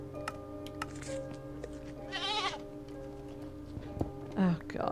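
A goat bleats in a modded Minecraft-style video game, several short calls over steady background tones and ticking, with a person talking over it.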